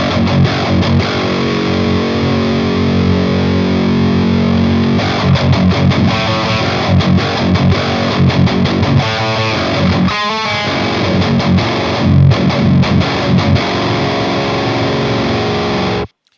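Electric guitar played through an amplifier on channel 1 with the hot switch engaged, a loud, heavily distorted tone with sustained chords and chugging riffs for about sixteen seconds, no talk, ending abruptly.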